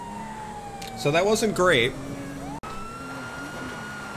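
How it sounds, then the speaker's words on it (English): Wailing police siren from the video game GTA V, rising and falling in a clear sweep for about a second, with a steady engine-like drone underneath and someone speaking briefly over it. "the sirens are being annoying"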